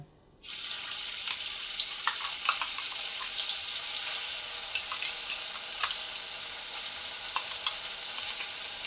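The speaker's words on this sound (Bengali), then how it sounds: "তেল গরম হয়ে যেতে আমি কিন্তু দিয়ে দিচ্ছি বরবটি বাটা" Ground yardlong bean paste dropped into a little hot oil, bursting into a sudden loud sizzle that continues as a steady close hiss with scattered spitting crackles.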